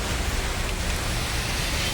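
Steady rain falling outside a shop, a dense even hiss filling the whole short stretch with no voices heard.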